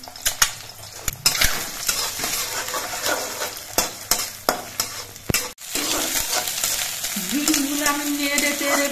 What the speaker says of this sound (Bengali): ডিমগুলো আমি নেড়ে চেড়ে ভেজে নিয়েছি।